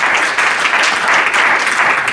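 Church congregation applauding steadily, a dense wash of clapping that stays loud and even throughout, with no voices on top.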